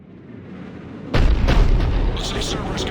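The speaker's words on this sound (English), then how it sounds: "Looks like Cerberus got that cannon operational, Commander." Sudden heavy boom of the Cerberus cannon firing in the video game Mass Effect 3, a loud low blast followed by a rumbling tail with faint voices or battle noise beneath.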